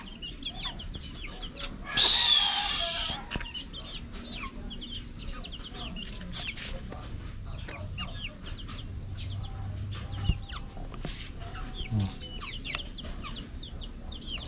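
Chicks and chickens clucking nearby, with constant small peeps and soft clucks and a louder squawking flurry near the start, in an outdoor yard.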